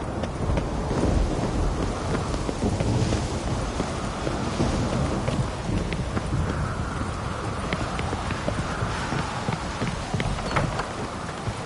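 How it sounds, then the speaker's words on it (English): A thunderstorm with steady rain in The Witcher 3, heard as a continuous wash of rainfall and low rumbling, with clip-clopping horse hooves running throughout. "A storm, damn it."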